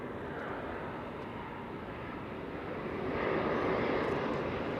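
A Cargolux cargo airplane passes overhead near Amsterdam Schiphol Airport, a steady broad jet engine roar from a distance that swells slightly toward the end.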